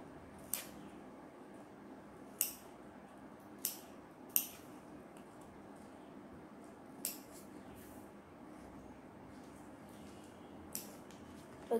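Scissors cut paper for a paper craft: about eight quiet, crisp snips spaced irregularly over a faint, hushed room background.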